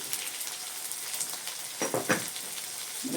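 Tomatoes sauté in a pan of hot oil for a prawn gravy, a steady soft sizzle with a few brief clicks of stirring partway through.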